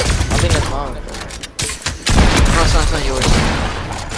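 Rapid gunfire bursts from a shooter video game crackle loudly and continuously, with sharp broadband shots clustered together, while players talk excitedly over the action.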